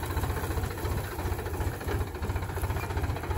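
A heavy vehicle's engine runs loud and close with a throbbing low rumble and steady vibration as the driver engages gear.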